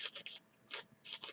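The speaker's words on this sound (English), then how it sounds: "I got a little more sanding right here" A plastic vacuform model kit part, a bulkhead, is sanded by hand in short rhythmic rasping strokes, close and fairly quiet, in three quick bursts with pauses between.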